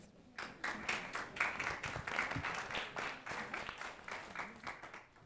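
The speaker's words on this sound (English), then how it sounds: "please give them a round of applause" An audience at a policy event claps in a round of applause, a dense patter of many hands that starts abruptly and carries on fairly evenly at moderate loudness for about five seconds.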